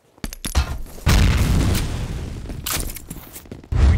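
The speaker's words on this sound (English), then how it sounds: "Grenade out!" A grenade detonates in a video game firefight with a heavy booming blast that rumbles and decays over a couple of seconds, framed by sharp nearby gunshots at the start and a loud impact at the end.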